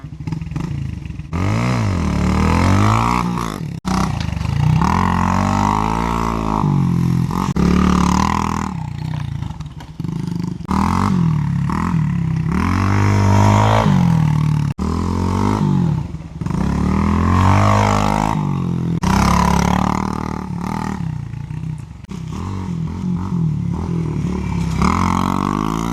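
A Yamaha TTR pit bike engine revs and drops repeatedly during riding, loud and close, with rising and falling pitch and brief throttle-offs throughout.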